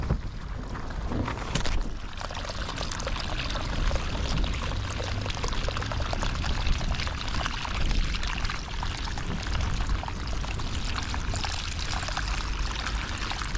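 Water being emptied out of a half-full boat, a loud continuous pouring gush that runs steadily for many seconds, close and unbroken, with no speech over it.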